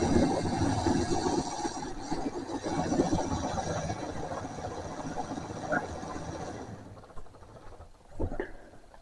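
A model railway 14XX steam locomotive runs along its track with a close, busy rattling and rolling clatter that fades after several seconds, followed by a few isolated clicks and knocks.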